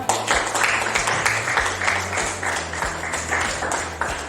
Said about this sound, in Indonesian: Kasih tepuk tangan dulu untuk Zia